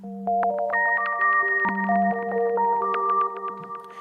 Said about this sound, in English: make it sound like there are a lot of wind chimes playing at the same time